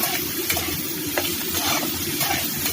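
Chicken pieces sizzle in a frying pan for pasta while a utensil stirs them, scraping at irregular moments over a steady close hiss, with no talking.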